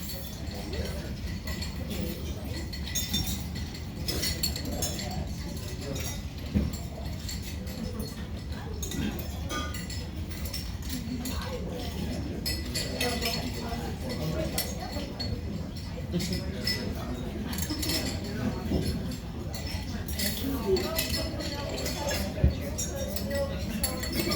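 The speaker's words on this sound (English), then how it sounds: "grab a glass of wine with ice" Wine glasses with ice cubes clink repeatedly at a memorial gathering, light chiming taps scattered over a steady murmur of crowd chatter and people talking nearby.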